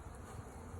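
Honeybees buzz at a hive entrance with light traffic, a continuous soft droning hum close by, steady and unbroken through the brief moment.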